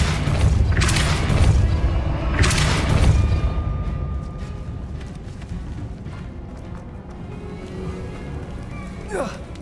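A spell cast in the Hogwarts Legacy video game lands as deep booming blasts, two big heavy hits early on followed by a rumbling magical wash and a quick whooshing streak near the end, loud with a voice speaking over it.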